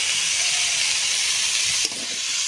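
Mustard oil goes into cooked chickpea greens in a hot pan, a steady bright sizzling hiss that shifts and settles slightly near the end.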